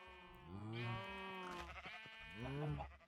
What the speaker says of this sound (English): Sheep, cow.